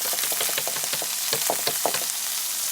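Chopped onions fry in hot ghee with a dense, bright, continuous sizzle close by, speckled with small crackles and pops, and no talking.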